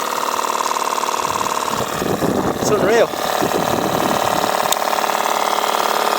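A Stuart Isis model steam engine runs very fast on a twin drum Stuart boiler holding 25 psi, giving a rapid, steady mechanical chatter while someone speaks over it near the middle.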